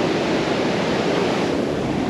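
Steady, dense roar of ocean surf breaking at Taghazout, Morocco, loud and continuous throughout with a washing, noisy texture and no talk.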